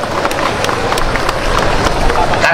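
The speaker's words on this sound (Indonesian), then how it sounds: "Tepuk tangan." A crowd applauds, dense clapping rolling on loudly and evenly for the full stretch with a murmur of voices mixed in underneath.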